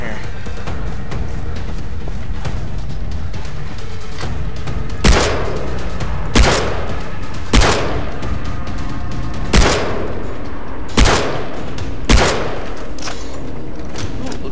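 Gunshots ring out in the video game Far Cry 3, six loud, sharp cracks spaced a second or two apart over steady ambient background noise.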